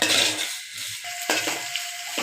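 Onions and green chillies frying in a pan for a multi-vegetable biryani, a close hiss of sizzling with a few brief metallic clinks and scrapes of a utensil, no voices.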